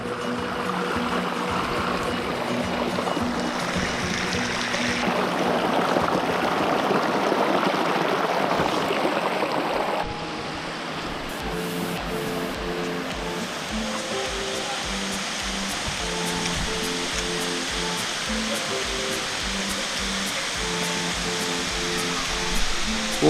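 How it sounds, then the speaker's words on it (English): A waterfall in a Guatemalan jungle clearing rushes in a steady broadband roar, loud and continuous throughout, its wash deepening for a stretch midway before settling back into an even, close pour. "we arrived to a beautiful waterfall in a clearing."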